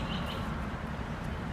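Electronic chirps from a traffic light crossing signal, imitating birdsong, sound faintly over a steady low street rumble, with a few brief tweets standing out.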